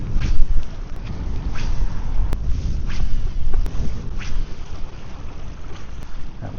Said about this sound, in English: That wind is picking up.